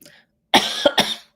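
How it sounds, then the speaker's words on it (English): A short, close cough fit of two or three raspy bursts, preceded by a faint trace of voice. "you will probably still hear a little cough every once in a while"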